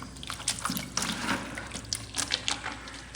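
Water runs from a pipe into a bucket during a washroom cleanup, a steady, close splashing gush with small spattering bursts and no talking.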